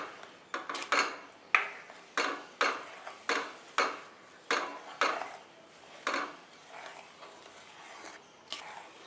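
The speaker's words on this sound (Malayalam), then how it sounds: "ഇത് നന്നായിട്ടൊന്ന് മിക്സ് ചെയ്യാം." A spoon stirs payasam in a pot after powdered cardamom and sugar go in, producing a steady series of about a dozen soft scraping knocks against the metal, close and fairly quiet.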